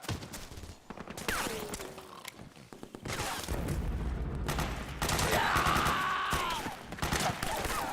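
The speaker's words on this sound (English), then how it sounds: "Suppressing fire!" Suppressing gunfire in the Metal Gear Solid 4 video game: sustained bursts of loud, close shots mixed with mechanical clatter and creaks, running steadily throughout with brief voices underneath.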